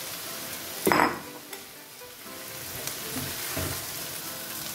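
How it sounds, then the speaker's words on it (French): Onions, spring onions and garlic fry in a pan with a soft, continuous sizzle, opened by a sharp burst as they hit the hot oil, followed by a few light clinks and stirs. "On va griller les oignons, les ciboules et l'ail."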